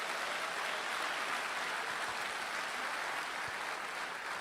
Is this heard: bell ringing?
no